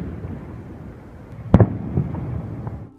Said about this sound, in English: Here's a new one, at least to us, a frostquake.